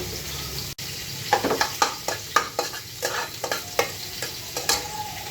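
Oil with two cardamom pods and two cinnamon sticks frying in a pan for a Pakistani-style pigeon meat bhuna: a soft, constant sizzle under a run of rhythmic spoon scrapes and clacks, fairly close, without talk.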